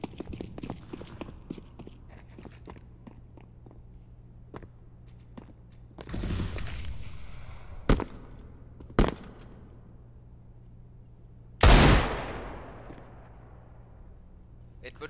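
Gunfire in an esports match of Counter-Strike, a few sharp isolated shots and a louder burst with footsteps, mostly heard beneath a commentator talking throughout.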